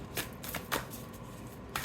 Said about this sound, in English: Cards are shuffling different with every pile.